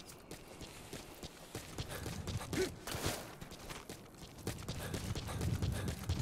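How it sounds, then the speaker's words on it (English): A horse galloping in Metal Gear Solid V: The Phantom Pain, with quick rhythmic hoofbeats thudding steadily at close range under a faint airy background, plus brief breathy snorts, and no talk. "I'll take the horse."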